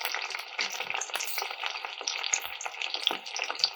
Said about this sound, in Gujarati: પહેલાં તો એને સારી રીતે તેલમાં ફ્રાય થવા દઈશું